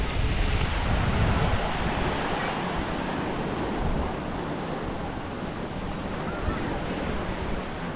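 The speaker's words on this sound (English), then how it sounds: "Set of big waves." Big ocean waves break and wash onto the beach at Siesta Key, a steady, close roar of surf with heavy wind buffeting the microphone throughout.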